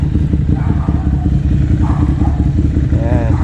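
A Yamaha R6 or Ducati Monster 795 on a full titanium exhaust runs loud and close, a dense rumbling engine note with rhythmic pulsing throughout and faint voices in the background.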